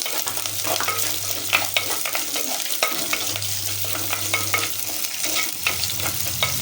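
Mustard seeds, curry leaves and onions sizzle in hot oil during tempering, a close, steady crackling fry broken by repeated spoon scrapes and stirring knocks against the pan.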